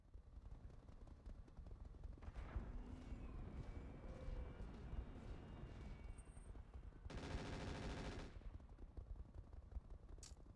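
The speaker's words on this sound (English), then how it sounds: "they got me with a little bit of fire from machine guns" Rapid machine gun fire from the Flashpoint video game, a dense burst of shots rattling steadily for about a second amid continuous low rumbling combat noise.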